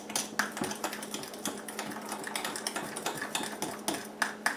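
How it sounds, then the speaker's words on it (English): Cream cheese and syrup mixture is stirred by hand into a bowl of whipping cream for spicebush ice cream, giving a steady run of quick close clicks and taps from the utensil against the bowl, with no voices. "Now we just want to take this and we just want to mix this into our whipping cream."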